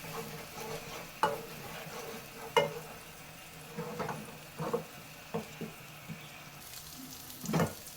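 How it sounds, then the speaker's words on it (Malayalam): Pureed tomato sautés in oil for a brown cowpea methi masala, with a quiet bubbling sizzle under repeated scraping strokes of a spoon against the pan, the stirs coming irregularly every second or so. "ഇത് നമുക്ക് നല്ലതുപോലെ എണ്ണയ്ക്കകത്തിട്ട് വഴറ്റിയെടുക്കണം. എണ്ണ തെളിയുന്നവരെ വഴറ്റണം."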